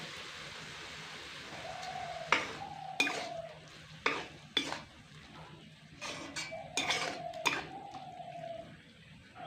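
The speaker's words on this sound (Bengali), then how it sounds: "এবার সেই সিদ্ধ করে রাখা মসুর ডালগুলো এর মধ্যে দিয়ে দিচ্ছি" Boiled masoor lentils go into a pan of kulekhara greens, followed by intermittent spoon scrapes and metallic clinks against the pan over a soft sizzle, with scattered sharp knocks and quiet pauses between them.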